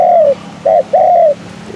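A spotted dove coos close by, three smooth hollow notes: one long call, a short note, then another long drawn-out note, loud against a quiet background.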